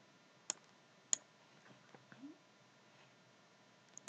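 Several sharp, isolated mouse clicks while setting up a drone flight plan in mission-planning software, sparse and fairly quiet against a faint background hum, with no talking.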